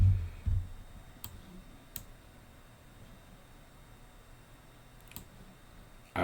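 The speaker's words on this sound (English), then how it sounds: "if I double click on this" A computer mouse clicks sharply a few times in a quiet room, with two clicks close together early on and another lone click later, each brief and crisp over faint background hiss.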